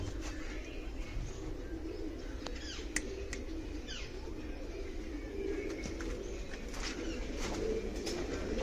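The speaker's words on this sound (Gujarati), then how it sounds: "અહીંયા પણ બીમાર કબૂતર જ છે" Soft cooing from sick and injured pigeons at an animal shelter in Surat, over a steady low murmur, with a few sharp chirps and small noises scattered through.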